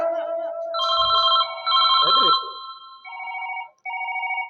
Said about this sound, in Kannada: ಮೊದಲು ಸಂದೀಪನಿಗೆ ಫೋನ್ ಮಾಡಿ ಕೇಳಿ ನೋಡೋಣ